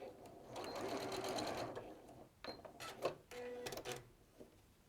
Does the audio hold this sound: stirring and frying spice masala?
no